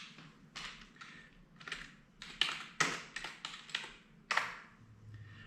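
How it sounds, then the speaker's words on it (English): Keys clatter on a computer keyboard in irregular bursts of quick taps with short pauses between, fairly close and moderately loud, with no talking. "let me type this in"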